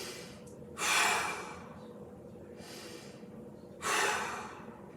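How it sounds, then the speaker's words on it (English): Two deep, forceful breaths taken while holding an inner-thigh adductor stretch in a mobility workout, each a short, loud, airy rush, close to the microphone and alone, with quiet between them. "We breathe into it."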